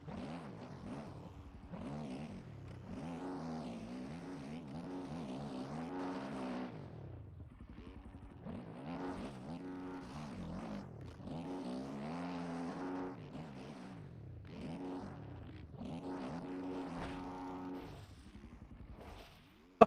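KTM motocross bike engine in the MX Bikes racing game, revving and droning steadily with rising and falling pitch for most of the clip, briefly dipping near the middle before climbing again.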